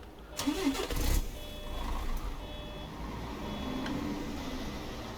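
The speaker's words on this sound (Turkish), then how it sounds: "Aracımızı bir çalıştıralım." A Mercedes Travego 15 SHD bus engine starting in Euro Truck Simulator 2, a brief cranking surge that catches into a steady low idle, with a few faint electronic beeps over it.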